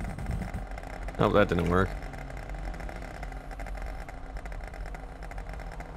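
A car engine idles low and steady in a police roleplay video game set in Blaine County, a constant rumble beneath the whole stretch while a voice speaks briefly near the start.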